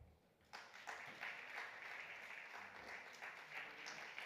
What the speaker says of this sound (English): Under your applause, Rebecca Riofrio.